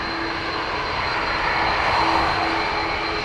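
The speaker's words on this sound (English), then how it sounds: "I'll give you the bigger sound on the A330." Airbus A330 jet engines at Dublin Airport give a loud, steady roar with a whining tonal hum, swelling slightly midway, with no talk.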